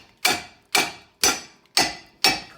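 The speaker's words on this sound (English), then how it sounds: "I'm gonna give it some hammer blows right here, just like the tie rod, to get it to break free" Five evenly spaced, sharp metallic hammer blows strike a seized ball joint on a Dodge Journey's steering knuckle, each ringing briefly before the next, close and distinct.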